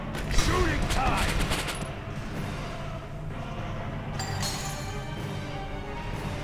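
Rapid gunfire during a video game battle, a dense rattle of repeated shots in the first couple of seconds, then continuing crackling fire and mechanical clatter over a steady low rumble, with brief voices mixed in.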